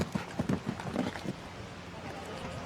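Hooves of a show jumping horse at a Grand Prix jump-off in Miami Beach, clip-clopping in quick, rhythmic thuds for the first second or so before fading into crowd ambience, with talk underneath.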